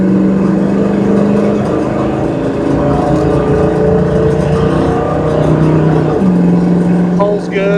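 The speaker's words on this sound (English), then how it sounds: "Get on it a little bit here, let you hear the exhaust." A 1987 Chevrolet Blazer square-body truck accelerates on the road, its exhaust droning steadily and loud from start to finish, with a brief dip near the end, and no talk over it.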